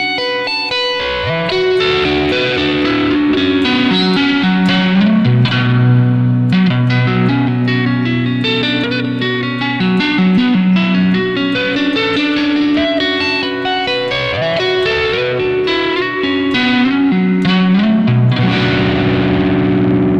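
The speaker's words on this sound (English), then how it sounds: "supposing I crank up the reverb on my Yamaha THR here" Electric guitar chords and single-note runs through a Yamaha THR amp ring out drenched in heavy reverb and some distortion, notes blurring into a continuous wash.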